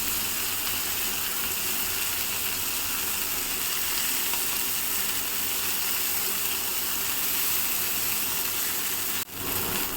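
Prawns frying in a pan, a steady close sizzle and crackle of hot oil that continues evenly throughout, with a small knock near the end.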